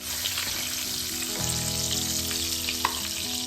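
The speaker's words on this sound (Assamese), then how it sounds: "হালধি মাছখিনি হাফ ফ্ৰাই কৰিছোঁ" Turmeric-coated fish pieces half-frying in hot oil, a steady close sizzle and crackle with occasional pops, no voices.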